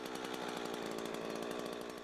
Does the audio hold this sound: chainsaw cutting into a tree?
yes